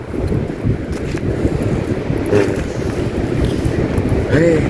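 Strong wind at a sandy beach buffets and roars steadily, with gusty rumbling noise all the way through and a few faint voices underneath.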